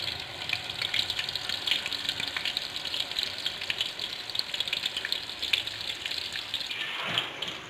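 Water and spice broth for sweet and sour chicken boils in a pan, a close, busy hiss of rolling bubbles and crackly sizzle holding steady, with a brief swell near the end.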